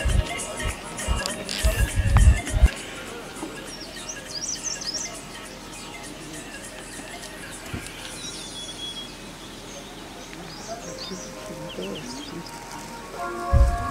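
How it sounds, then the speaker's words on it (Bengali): Birds chirp at sunrise from a resort rooftop, with scattered short calls and tweets at moderate distance over a quiet background, and a few louder bumps at the start and end. "আর পাখিদের কিচির মিচির ডাক তোমরা শোনো।"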